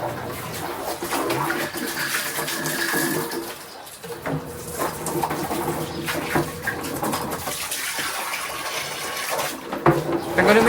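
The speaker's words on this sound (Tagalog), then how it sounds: "Sige, lagyan mo ng tubig yung dalawa para diyan ka na magpanlaw." Water runs steadily from a tap into two basins set out for rinsing laundry, a continuous close rush of flow with faint bird calls behind it.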